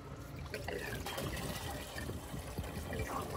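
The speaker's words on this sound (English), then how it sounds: "draining the oil and the coolant for a good flush" Oil and coolant draining from a big 10k–12.5k QD quiet diesel generator, a faint continuous trickle of liquid running out underneath, with low background rumble and no talk.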